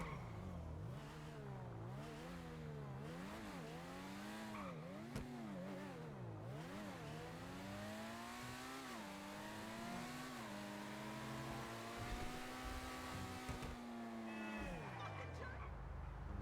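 A modified car in GTA 5 Online drives with a constant engine drone that repeatedly revs up and down before a long, rising pull and a drop-off near the end.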